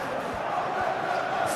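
Football stadium crowd in the PES 21 video game during a simulated Arsenal vs Chelsea Premier League match, a steady, wide murmur of cheering and chanting that holds at an even level throughout without any clear peaks.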